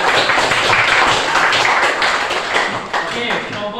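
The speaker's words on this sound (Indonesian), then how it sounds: "tepuk tangan lagi sekali nih." A group claps together after a classroom presentation, a dense, steady patter of hands that stays loud for the whole stretch with a few voices mixed in.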